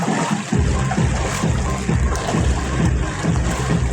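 Floodwater covering residential streets during the rainy season sloshes and laps steadily, with rhythmic surges that suggest wading or motion through deep water, close and continuous.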